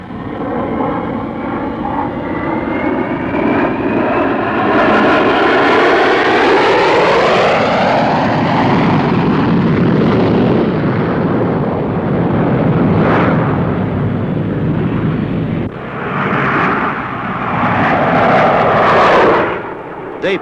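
RAF display team jets from the 1950s and 1960s fly past in formation, a loud sustained engine roar whose pitch sweeps as the aircraft pull out of a dive, with rushing swells and a brief dip near the end.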